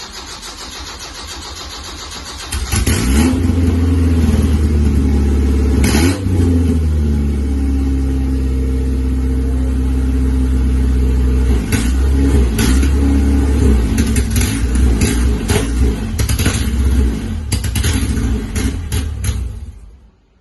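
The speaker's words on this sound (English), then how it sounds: "I'm going to start it up one more time" An Isuzu Rodeo's 4ZE1 engine, just rebuilt and running with no exhaust fitted, cranks briefly and catches, then idles loud and raw with sharp revs blipping up several times before cutting off at the end.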